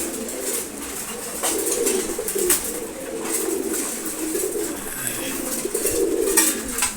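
Pigeons on a pigeon farm, among them a female racing pigeon kept apart while feeding, coo in repeated low rolling calls, close by and fairly loud, with pecking clicks and scattered bird noise around them.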